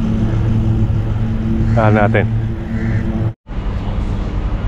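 Road traffic rumbles past in Dubai Harbour, a constant loud low engine drone with a passing horn-like tone, while a person speaks briefly over it.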